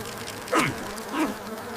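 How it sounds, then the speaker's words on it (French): A fly buzzes in two brief swooping passes in an animated fairy tale, rising and falling in pitch as it zips close by over a quiet background. "Allez-vous-en, sale mouche!"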